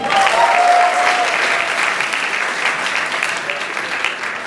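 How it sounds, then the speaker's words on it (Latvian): A crowd applauds after a Latvian folk dance in Stockholm, loud, dense, sustained clapping that begins strong and eases slightly over several seconds, with a brief tonal voice or whistle near the start. "Aplausi."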